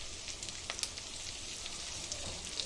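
Spice masala for chatpati Konkani-style okra (bhindi) fries in a pan, giving a steady, close hiss and sizzle with scattered small pops and crackles.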